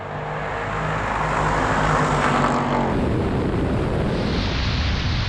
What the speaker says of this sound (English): Nice pickup from the supercharger.